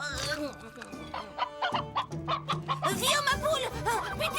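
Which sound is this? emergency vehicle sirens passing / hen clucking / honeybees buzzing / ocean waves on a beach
hen clucking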